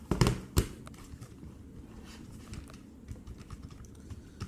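Keys on a Portronics Key2 (POR-372) wireless keyboard are typed on, giving a couple of loud clacks at the start followed by a run of softer, quick, irregular taps close by.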